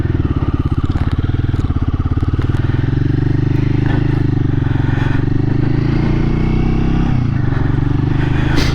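A Royal Enfield Guerrilla 450 motorcycle engine runs steadily up close while riding, a rough rumbling throb with rattling and clatter, holding fairly constant revs around 4,000 throughout.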